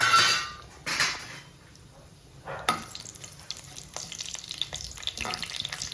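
Whole spices (bay leaf, cloves, cardamom, star anise and shahjeera) sizzle in hot oil in a pan, with crackling bursts and a few stirring scrapes at close range, no voices.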